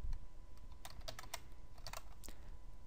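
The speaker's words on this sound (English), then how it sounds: "you're going to want to type in the password you created when you created the email account" A password being typed on a computer keyboard, a quiet run of about a dozen light key clicks in uneven bursts over a soft background hum.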